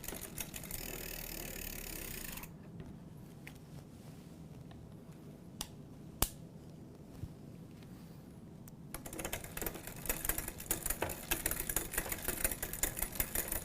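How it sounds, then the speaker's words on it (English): Derailleur clicks tick on a Huffy Summit Ridge 20-inch six-speed hardtail mountain bike as the gears are shifted, with a faint whir and quiet irregular ticking under steady background noise. "Go ahead and keep clicking through the range so that it'll climb the gears."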